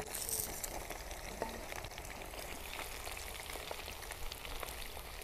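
Garlic sizzles and crackles in hot oil in a pan used for frying tempeh, a steady, soft, close hiss with scattered pops.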